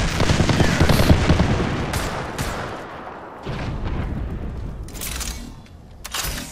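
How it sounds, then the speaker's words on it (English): A grenade explosion in the game Revenant, amid a loud burst of blasts and rapid gunfire up front, then quieter crackling shots and sharp bangs spaced out afterward. "Look out! Grenade!"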